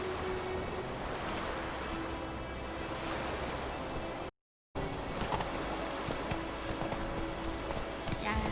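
Roach, a horse in The Witcher 3, trotting with rhythmic clip-clop hoofbeats under a constant wash of wind or surf-like ambience, with a voice speaking over it and a brief dropout midway.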